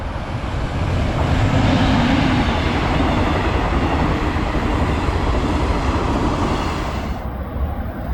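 A train rumbles loudly through a small rural railway station, a steady, close roar of wheels and cars that holds for several seconds before easing off near the end.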